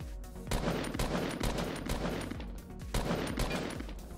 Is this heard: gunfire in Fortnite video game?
yes